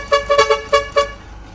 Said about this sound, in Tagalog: Yan yung ating horn module or yung Kabisyo Express horn module kiray.